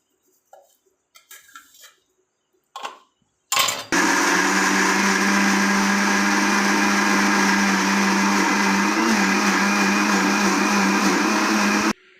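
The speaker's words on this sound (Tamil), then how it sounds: "மிக்சி ஜாரில் மாற்றி நல்லா இதை அரைச்சி எடுத்து" A mixer grinder jar grinds sautéed masala for fish curry: after a few light clinks and handling knocks, the motor starts with a whine and runs loud and steady for about eight seconds before cutting off.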